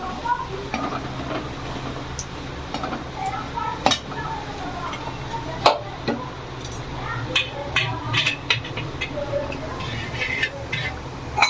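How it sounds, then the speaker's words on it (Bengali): Lentils poured into a pan of browned fried onions sizzle and crackle steadily, with sharp spoon or ladle knocks against the pot while the dal is stirred. "এবার আমি ডালটা ঢেলে দেবো"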